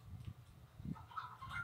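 A chicken in the Fortnite video game clucks in a few short, soft bursts, fairly quiet and heard on its own.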